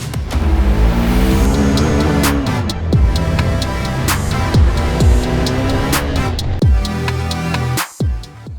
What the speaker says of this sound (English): keeping the engine in the higher part of the rev range